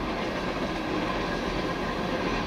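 A freight train with an 86-foot boxcar rolls past close by, its steady dense rumble and faint wheel clatter continuing without a break.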